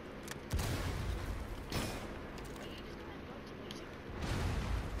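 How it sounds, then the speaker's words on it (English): Pistol gunfire in a video game, a few sharp shots spread across the moment with a louder crack near the start and another late, heard through a game's busy background noise. "I'm using my pistol."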